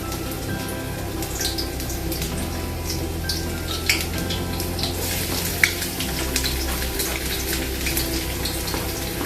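Garlic sautéing in a pan for pasta, a continuous close crackling sizzle with a low steady background hum and a couple of brief louder pops, no talking.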